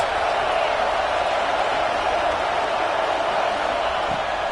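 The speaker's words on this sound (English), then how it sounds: "Big third down as the crowd gets behind this defense" A stadium crowd in a college football video game cheers for the defense on a big third down, a steady wall of roaring noise sustained throughout.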